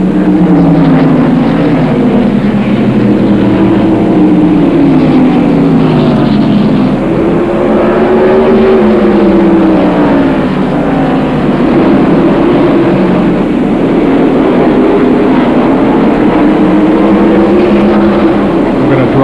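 NASCAR stock cars racing in the 1995 First Union 400, a loud continuous engine roar with rising and falling pitch as cars sweep past, steady and dense throughout.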